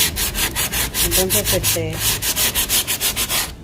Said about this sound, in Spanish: usamos una lija de mano con las manos y vamos bien